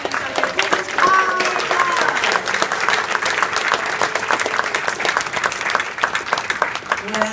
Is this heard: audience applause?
yes